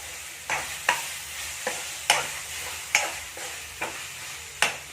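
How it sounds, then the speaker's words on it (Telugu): Tomatoes are stirred into a hot pan for a Telangana-style fish curry, a steady sizzle broken by sharp utensil scrapes and taps against the pan at irregular intervals. "సో నేను టమాటో వేసుకుంటున్నాను టమాటోస్"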